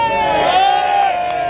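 A large crowd cheers and shouts together at a political rally in Dover, a loud, sustained roar of many voices with one high voice standing out over the dense babble.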